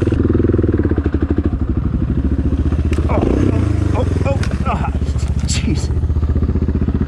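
A DR650 motorcycle engine runs loud and close throughout, broken midway by a clattering, scraping crash as the bike bounces off a tree, with a voice briefly heard.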